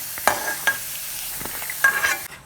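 Pirandai stalks being sautéed in oil in a pan, a soft sizzle broken by a few sharp scraping stirs of the spatula, close up and brief with no talking.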